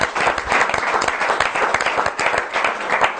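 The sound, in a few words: studio audience applause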